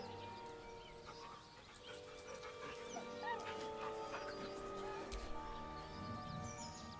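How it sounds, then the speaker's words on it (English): A dog in Baldur's Gate 3 whimpers faintly, its soft whines sitting under layered game music and ambience. "The dog whimpers nervously,"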